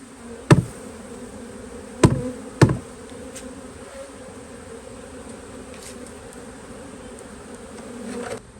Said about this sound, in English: All the bees in the frame feeder, we're just making sure the queen is not one of those.